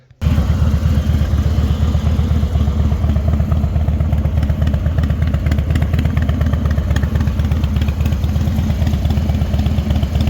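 A Harley motorcycle engine with its exhaust running close and loud, a deep, steady, evenly pulsing rumble that holds for the whole stretch after a brief start, with no voices.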